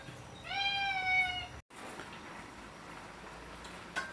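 Close domestic cat meowing once in a drawn-out, rising-and-falling call, followed by quiet room ambience with no talking.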